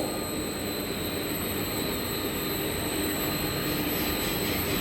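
A Germarel FC-GER 60 kVA parallel marine frequency converter runs with a steady, loud, even whirring hum and airy hiss that holds constant throughout, with no voices.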